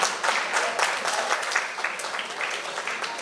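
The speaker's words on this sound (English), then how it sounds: "So give Pleasantville a round of applause" Audience applause at a school prize-giving and craft display ceremony in San Fernando, Trinidad: dense, steady clapping from a crowd that carries evenly for about three seconds without letting up.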